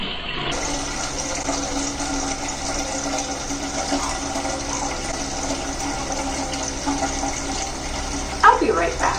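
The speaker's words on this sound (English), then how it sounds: "right now I'm filling another tub because this was not enough water" Tap water pours steadily into a tub being filled for dyeing faded jeans, a close, continuous rushing and splashing that holds the same level throughout, with a brief clatter near the end.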